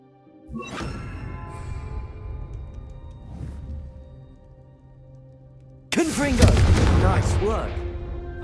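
Two Confringo spell blasts from the video game Hogwarts Legacy, each a sharp booming burst with a ringing metallic tail. The first comes early and the second, louder and harsher, comes near the end, with speech around them.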